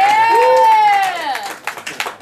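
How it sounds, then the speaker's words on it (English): A loud, drawn-out whoop rises and falls, then applause trails off in a few clustered claps at the Diddy Beats launch party at CES 2010. "Give him another round of applause"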